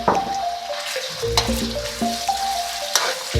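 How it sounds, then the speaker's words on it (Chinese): Chicken slices stir-fry in oil in a hot wok with a loud, close, steady sizzle, punctuated by a few sharp scrapes and clanks of the spatula. "热锅冷油，放鸡肉炒散。"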